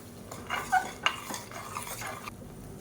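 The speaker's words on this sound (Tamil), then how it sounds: "இப்போ இதில் நம்ம அரைச்சி வச்சுருக்க இந்த பேஸ்ட்டை சேர்த்துக்கலாம் சேர்த்துட்டு நல்லா வதக்கி விட்டுக்கலாம்" Ground masala paste is stirred and sautéed in a pot for hotel-style mutton curry: soft clinks and scrapes of a spoon against metal over a faint sizzle, close and fairly quiet, with no voices.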